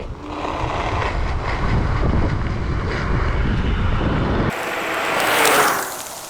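A budget electric scooter that reaches about 40 mph rushes along at speed, with loud wind buffeting and road roar that cut off abruptly near the end, followed by a brief rising whoosh, and no talk.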